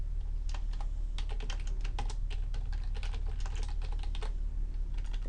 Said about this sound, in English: I'm taking the time to actually type this while I'm filming this